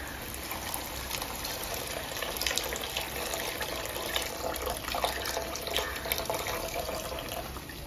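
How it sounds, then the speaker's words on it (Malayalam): Coconut milk pours steadily into a pot of lentil payasam, a soft continuous liquid rush with faint splashing that lasts throughout, with no talking. "ഇനി തേങ്ങാപ്പാൽ ഒഴിച്ചു."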